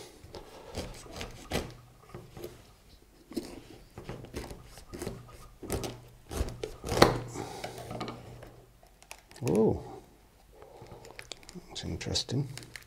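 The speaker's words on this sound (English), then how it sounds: "I'll cut it open before it rots away totally and have a look, see what's inside it." A knife cutting through a tough cocoa pod, a series of rough scraping and rubbing strokes, close and moderately quiet, with someone talking over and between them.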